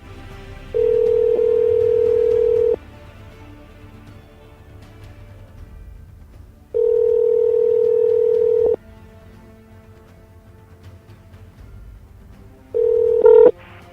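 Three long steady telephone tones, likely dial or call-progress tones, sound at intervals over a quiet line. A short burst of dialing beeps comes near the end. There is no speech.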